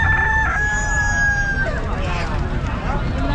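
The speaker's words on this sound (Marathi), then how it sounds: "इकडं पण कोंबडे आहेत." At a busy Monday livestock market selling goats, sheep and chickens, a nearby rooster crows once in a long, clear call over a steady din of crowd chatter and market noise.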